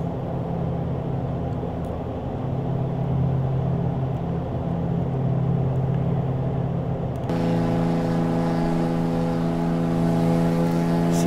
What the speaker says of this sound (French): C'est quand même des moteurs qui sont assez bruyants.